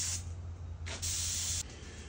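Short bursts of a Harbor Freight touch-up paint spray gun hissing, one brief and one longer, over a steady low hum, fairly close.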